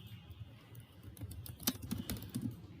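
Keys clatter on a computer keyboard in a quick, close burst of light taps, with a few slightly louder strokes near the end, over a faint steady background hum.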